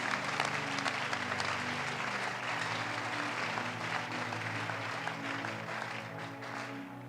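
A church congregation cheers and claps loudly for the Lord during a worship service, a dense sustained wave of applause mixed with crowd voices and a steady musical hum beneath.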